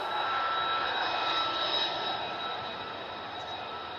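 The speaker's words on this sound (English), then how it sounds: "I think we'll see one more round of F-15s possibly go round." An F-15 fighter jet flies near RAF Lakenheath with a loud, steady engine roar and a high whine. The roar fades slightly as the jet moves off, and no one speaks.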